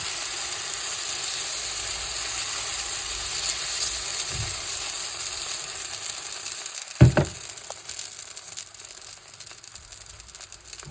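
Ragi (finger millet) dosa batter frying on a hot pan, a steady soft sizzle running throughout with a brief louder hiss and crackle partway through, close and alone.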